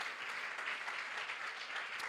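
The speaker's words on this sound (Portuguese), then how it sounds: "Você pode aplaudir a Jesus por isso, queridos?" A church congregation applauds together in a steady, dense wash of clapping that holds evenly throughout, with no voices rising above it.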